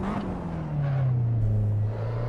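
A race car engine in a racing sim game holds a steady, slightly falling drone for a couple of seconds, loud and continuous with no break.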